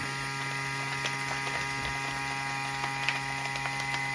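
A Raycial vacuum sealer pumps air out of a bag with a steady low electric motor hum and faint mechanical whine, continuous and moderately quiet.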